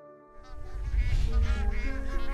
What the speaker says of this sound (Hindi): जब रात होती है तो ये गीज सितारों के जरिए अपना सफर तय करते हैं।